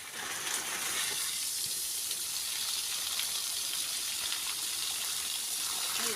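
Water sprayed from a hose onto garden plants in hot weather, a steady close hiss running without a break throughout.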